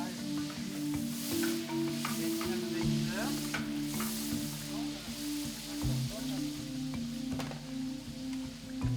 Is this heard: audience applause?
no